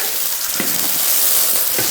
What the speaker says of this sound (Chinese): 要把它翻炒一下